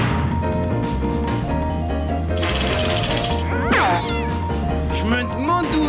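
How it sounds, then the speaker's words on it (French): A cartoon cat gives a series of exaggerated, wavering meows and yowls over a busy music score with crashes and comic sound effects, mixed with animated voices. "Je vais récupérer ton chat."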